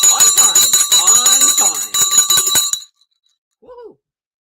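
A stock market closing bell rings at the market close, a loud sustained metallic tone over about three seconds with clustered strikes, ending abruptly; a brief voice follows after a pause.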